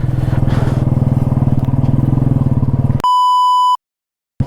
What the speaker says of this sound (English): My alarm is ringing